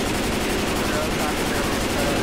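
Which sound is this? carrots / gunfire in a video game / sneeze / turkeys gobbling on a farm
gunfire in a video game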